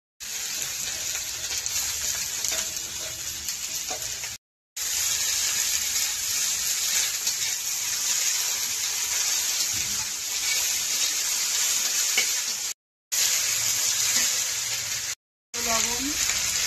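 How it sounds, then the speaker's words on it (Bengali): Onion frying in a pan gives a continuous dense sizzle, loud and close, broken by a few brief silent cuts. "পেঁয়াজটা একটু ভেজে নেব, তারপরে শাকটা দেবো।"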